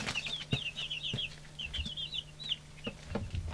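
Young chickens about three weeks old, four hens and three cockerels, cheep in rapid high peeps while scratching and shuffling about nearby, with a few soft thumps and wing flutters.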